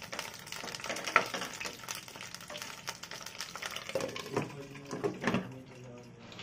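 Stuffed eggplant cooking in a covered pan is stirred now and then, giving a soft sizzle with scattered scraping and clinking of the spoon against the pan.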